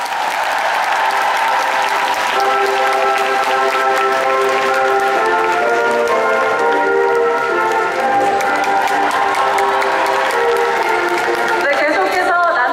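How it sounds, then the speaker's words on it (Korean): Audience applause at the 2014 Korean National figure skating championships ceremony, a steady sustained wash of clapping filling the arena for about twelve seconds, with light cheering mixed in. "여러분 다시 한번 큰 박수 부탁드립니다."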